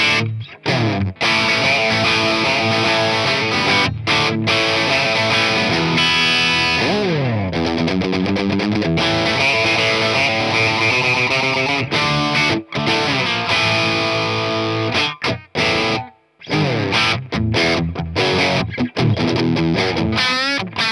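Electric guitar with humbucker pickups played through a crunchy distortion pedal, a dense, sustained overdriven tone with chords and riffs, loud and continuous with a few short pauses, no talking.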